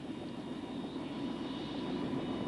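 OH-58A Kiowa helicopter turbine engine idling after start, a steady continuous whine and rumble with a faint high tone, close and even throughout, with no talk.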